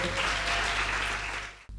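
Audience applause for a contestant at a women's eloquence competition in Lubumbashi, a dense roar of clapping that cuts off abruptly near the end.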